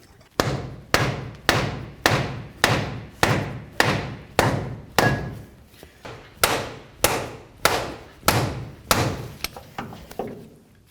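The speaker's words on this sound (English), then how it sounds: "we'll just give it a couple loving bonks with a rubber mallet and drive it in" A rubber mallet drives a CV axle shaft into the front differential of a 2007-or-later Toyota Tundra, giving about seventeen close, evenly spaced thudding blows, one every half second or so.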